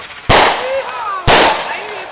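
Two loud, close fireworks blasts about a second apart go off outdoors at night in a neighborhood. Each bang trails off in a long crackling decay with faint whistling tails.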